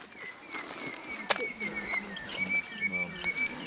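Birds at Mutitjulu Waterhole near Ayers Rock, with a sustained high call and scattered chirps and coos in the open air, one sharp knock partway through, and faint background sounds.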